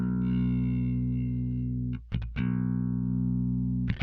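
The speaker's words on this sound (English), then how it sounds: "if I really just wanted a spanky clean tone, I'd turn the level up and turn the compressor off." Electric guitar with a clean tone, level raised and compressor switched off, ringing in sustained notes with a brief break near two seconds before the tone resumes, played alone without talk.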